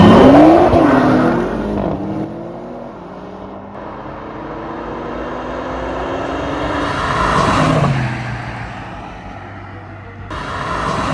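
An Audi RS7 tuned by APR to 750 horsepower and a Nissan GT-R Black Edition drag race over 200 metres, engines roaring loud at launch, rising through gears with shifts, then fading and swelling again as they pass.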